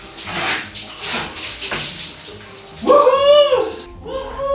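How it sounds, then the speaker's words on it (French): Water from a running shower splashes and hisses in a bathroom, a broad rushing wash that fills the clip, with a short whistling or squeaking voice-like sound near the end. "donc on va aller voir s'il se douche correctement"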